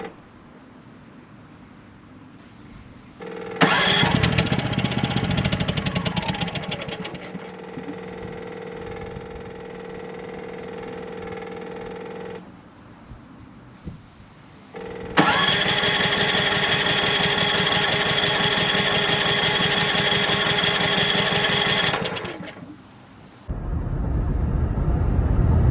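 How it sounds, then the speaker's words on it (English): A Coachmen Nova RV generator with a fuel line problem and vapor lock runs loud, cuts out, then starts up again with a rough, puffing engine note. It is heard in two long bursts separated by quieter running. "then it starts up again, and then you hear that puffing noise"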